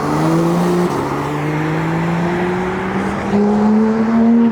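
A modified Nissan GT-R accelerates hard on a cold road with its exhaust valves open, the engine note climbing loudly through a gear change, close by and with no talk over it.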